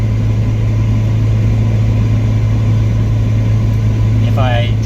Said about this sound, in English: if you're going on a long drive through the freeway and you get to just set your cruise control and just go for as long as you want, this is what you hear